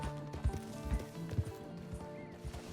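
Horse galloping in the video game Red Dead Online, quick rhythmic hoofbeats thudding along with a low music or ambient bed underneath.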